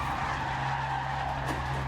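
A car slides and skids with a continuous tire squeal and a steady engine drone in a racing simulator game played on Fanatec Clubsport V3 pedals, loud and unbroken from start to finish.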